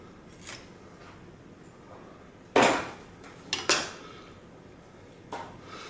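A knife cutting along a chicken's backbone, with a few sharp cracking crunches and a clack on the board. The sounds are sparse and set against a quiet room.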